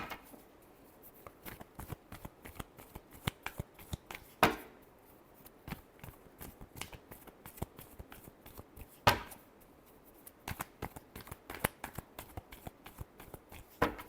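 A deck of tarot cards is shuffled by hand in quick, crisp riffles and soft flicks, faint and close, with a couple of sharper snaps along the way.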